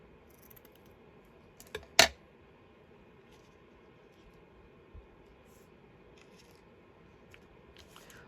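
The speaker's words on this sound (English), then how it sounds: "let me just cut this bit of bling down" Scissors snip through a piece of decorative bling at a desk, one or two quick close cuts followed by a sharper crisp snip, then faint scattered rustles in a quiet room.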